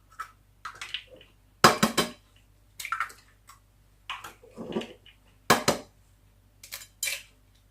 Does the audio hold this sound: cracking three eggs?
yes